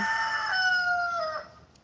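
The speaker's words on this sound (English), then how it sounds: "Yes, I have a rooster in my yard." A rooster crows once in a yard, a drawn-out cock-a-doodle-doo heard from a moderate distance, trailing off at the end.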